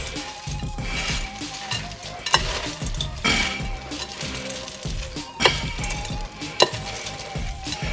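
Breadcrumbs being stirred into oyster dressing made with chicken livers, gizzards, hearts and oysters, giving a steady scraping, crackling mix with a few sharp knocks of the spoon against the pot.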